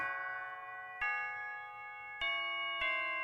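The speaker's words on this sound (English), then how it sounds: "Got like a bells melody here" Bell melody from an Incredibox mod music game, a few bright chiming notes struck about a second apart, each ringing on and fading under the next.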